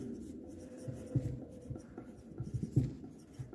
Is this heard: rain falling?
no